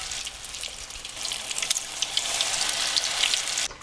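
Potato latkes frying in a pan of hot oil, giving a bright, steady sizzle with crackling spits that swells over a few seconds and then cuts off abruptly.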